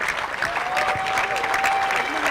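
Audience applause for runners-up called on stage at a tennis tournament trophy ceremony, a dense, steady wash of clapping filling the moment, with a sustained tone running through it.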